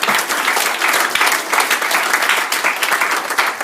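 A church congregation at a deliverance service applauds loudly and steadily, a dense wash of clapping that goes on throughout with faint voices mixed in.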